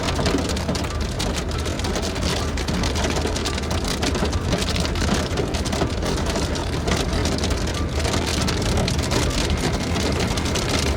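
Heavy rain pours during a severe Saskatchewan storm amid flooded, gridlocked roads, a dense, steady roar of drops drumming on surfaces and a vehicle, continuous and close with no talking.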